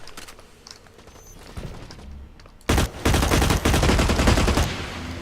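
Rifle gunfire in the video game Blacklight Retribution starts after a quiet stretch of footsteps and clatter, then breaks into loud, dense bursts of rapid shots that continue to the end.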